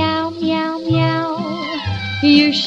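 A singing voice imitates a cat's meow in a children's song, with repeated sung meow-like notes over a light musical accompaniment, loud and close.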